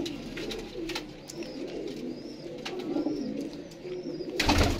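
Pigeons coo softly in repeated low calls amid a murmur of background noise, with a few higher chirps and a louder burst at the end.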